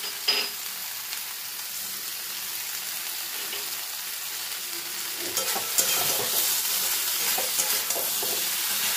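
Vegetables frying with ginger paste and sugar for chapor ghonto, stirred in a pan with a steady close sizzle and bursts of spoon scraping toward the end, no voices.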